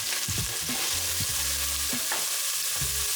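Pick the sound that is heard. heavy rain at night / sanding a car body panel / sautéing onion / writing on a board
sautéing onion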